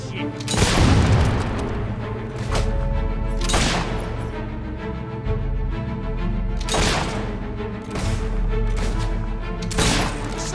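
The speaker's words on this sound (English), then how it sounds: "Suckers shooting at us!" Enemies open fire in a heavy exchange of gunshots and booming blasts that recur every few seconds over a constant rumble, while voices talk throughout.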